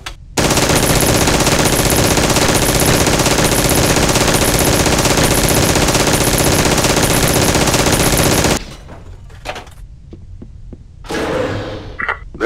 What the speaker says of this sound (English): Pretend the barrels are guards and take them out with this turret.